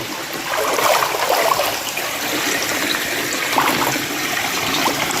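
Cold stream water at a wild hillside resort rushes and splashes steadily as someone steps into it, a continuous close hiss with no talking.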